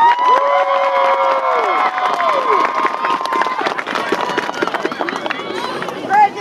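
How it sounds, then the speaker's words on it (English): A crowd at a state champion parade and ceremony for a school football team cheers and shouts, with whoops and children's voices over a thin layer of clapping and general hubbub. "Y'all give these guys a round of applause."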